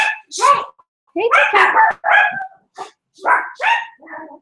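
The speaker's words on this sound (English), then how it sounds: "dogs are barking." Dogs bark and yip repeatedly in quick, uneven bursts, loud and near, with a few higher whimpering yelps mixed in.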